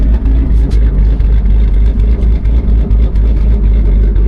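Ford S650 Mustang GT fitted with a ghost cam and burble tune, its engine rumbling and revving loudly up close with a steady deep throb, and no talking over it.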